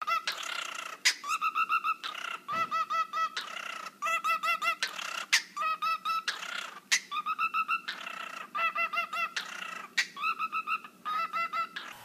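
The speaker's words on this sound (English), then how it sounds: "this bird is doing dubstep" A parrot produces rapid, rhythmic electronic-like warbling bursts resembling dubstep, loud and close, with short pulsing phrases repeating in quick succession and brief gaps between them.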